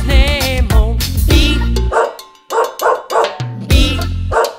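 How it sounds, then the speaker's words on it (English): A farm dog barks in a short run of sharp yaps amid a cheerful children's nursery-rhyme song with sung melody and instruments around it. "There was a farmer had a dog, and Bingo was his name"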